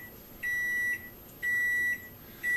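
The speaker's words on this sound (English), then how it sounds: "that was my timer" A kitchen timer beeps while homemade beef snack sticks cook, sounding as a steady high electronic tone in three evenly spaced half-second bursts over faint room noise, with no talk.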